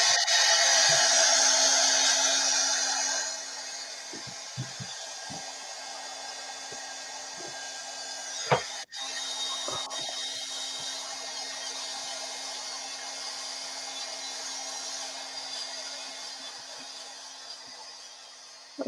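A hair dryer blows on a craft piece, a steady whooshing hum that is loud at first and then drops as it moves farther off, with brief clicks and a short interruption partway through.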